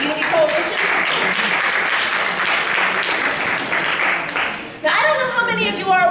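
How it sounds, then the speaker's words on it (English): An audience applauds a panel at a State of Black Ohio event with full, steady clapping for most of the stretch; near the end it cuts off and a voice begins talking. "of applause for that amazing last panel with Petey Talley and the Unity Coalition"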